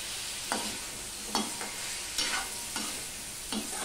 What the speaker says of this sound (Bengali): দেখো আমি ঢাকা দিয়ে দিয়ে আমি ভাজতে রয়েছি ফোড়নটা দিয়ে।